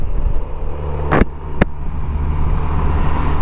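A Honda SilverWing scooter rides along a road, with a steady low engine drone and wind rush carried throughout and two sharp brief bursts of noise near the middle.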